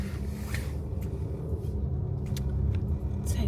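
A car drives along, its steady engine rumble and road noise filling the cabin at a constant, moderately loud level with no voices.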